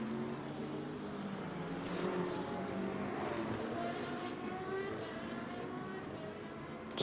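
Hypercar racing engines in the video game Le Mans Ultimate, a faint continuous drone of engine whine and tyre noise with shifting pitch, heard low in the background.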